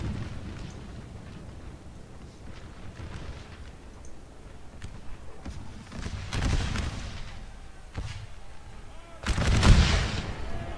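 Battle din in Napoleon Total War, an American Civil War hardcore submod: scattered musket gunfire and distant artillery booms rolling through, with a couple of louder heavy blasts near the end.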